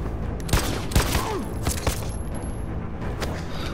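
Gunfire in the video game Detroit: Become Human: several sharp, booming shots spaced roughly half a second apart, loud and close over a dense, rumbling background score.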